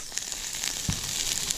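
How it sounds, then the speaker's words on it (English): Sausages sizzle with chili flakes on a Camp Chef FTG600 flat-top griddle, a continuous close hiss of frying fat with small pops and crackles. "So we're going to let these sizzle away."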